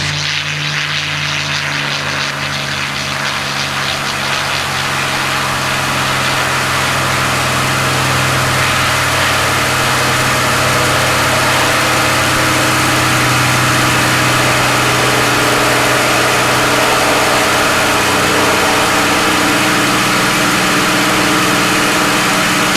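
A P-51 Mustang's piston engine runs up to high power for takeoff, a loud, constant, heavy roar with a steady droning tone that holds unbroken throughout.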